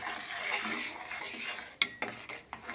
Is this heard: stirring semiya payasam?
yes